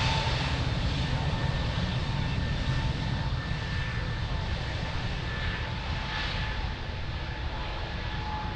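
Airliner taking off at Lisbon Airport, a steady loud roar of jet engines with a faint whine, continuous and fairly close throughout.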